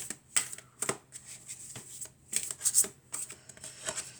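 A deck of fairy tarot cards being shuffled by hand close up, with repeated quick riffling bursts and soft pauses between them, crisp and fairly quiet, with no talking.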